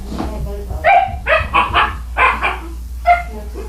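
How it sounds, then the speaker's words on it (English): Several puppies yip and bark in quick irregular bursts, loud and close, with some whimpering mixed in among a noisy group setting. "it's very hard to do trainer talk when we have all these puppies making all this noise"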